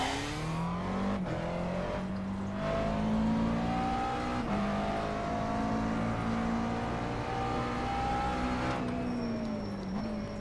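A McLaren MP4-12C GT3 race car engine in the iRacing sim at Road Atlanta revs loudly and continuously, pitch rising and dropping with several sharp gear-change breaks over about ten seconds, no voices.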